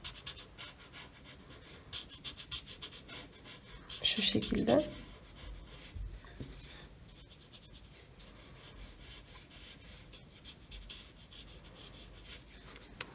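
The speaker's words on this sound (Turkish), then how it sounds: "Bunu yine stamp kağıtla yani kağıt preslenmiş kalem ile yayarak deniyorum" A paper blending stump smudges pencil shading across drawing paper in a short burst of close, soft rubbing strokes, while a voice talks quietly around it.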